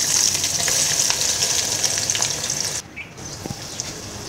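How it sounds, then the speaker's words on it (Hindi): Finely chopped onions fry in about a cup of hot oil, a loud continuous close sizzle with occasional stirring scrapes, dipping briefly quieter partway through. "इस तरह फ्राई करके प्याज को ब्राउन कर लेना है।"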